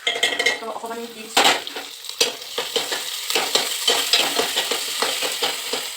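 A utensil scrapes and clatters against a pan while onions and ginger paste fry, producing repeated stirring scrapes and knocks over a steady sizzle, close and fairly loud.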